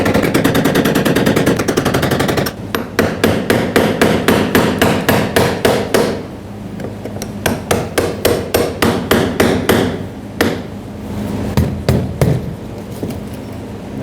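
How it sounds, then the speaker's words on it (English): Hammer striking a punch against a rusty fuel pump lock ring on a 2011-2016 Ford F-350 with a 6.2L V8, a loud close run of rapid metallic taps in quick bursts with brief pauses, no talk. "take a punch and a hammer, preferably a brass punch if you have one, so it doesn't make any sparks. Tap it counterclockwise until it unlocks"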